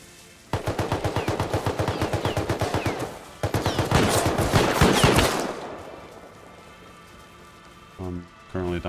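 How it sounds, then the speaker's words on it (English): An automated turret in the video game Rust fires rapid bursts of gunfire, loud and close, in two long rattling volleys that cut off. A few quieter hits and thumps follow near the end. "Dying to turret."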